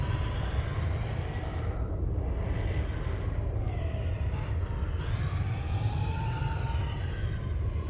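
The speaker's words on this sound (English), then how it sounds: "This is not the most maneuverable aircraft," An aircraft engine in the space game Starbase hums in a steady, continuous drone with a rising whine, heard alone without voices.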